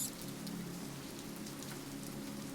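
Steady rain patters into rippling puddles by a town building at night, a continuous soft hiss with a low rumble underneath, even and unbroken throughout.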